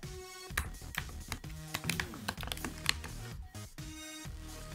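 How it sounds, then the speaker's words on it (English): Keys clatter on a computer keyboard in quick, irregular bursts of close clicks, with a faint tonal hum in the background. "let's start by typing"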